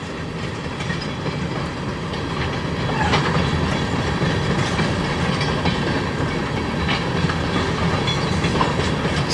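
A CSX freight train, likely tank cars and hoppers, rolls past behind other locomotives in a snowstorm at Sarnia, a steady broadband rumble with faint clickety-clack of wheels, growing slightly louder midway and continuing throughout with no talk.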